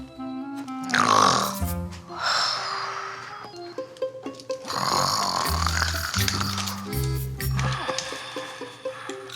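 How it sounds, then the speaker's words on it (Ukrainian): A person snoring loudly in a Ukrainian comedy series scene, rough drawn-out snorts and rumbling breaths in several long bursts, close and prominent over background music. "Хропе, що демон."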